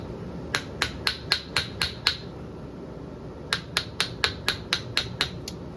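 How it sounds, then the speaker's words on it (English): A rawhide mallet taps repeatedly on a brass Reynolds Contempora horn, ex-US Navy, crusty and being restored: two bursts of about seven and nine evenly spaced, sharp, ringing knocks close by, separated by a short pause. "The reason I'm using rawhide mallet"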